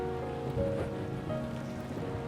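Steady rain falling on a surface, a constant even hiss close around with no breaks, under a faint low hum.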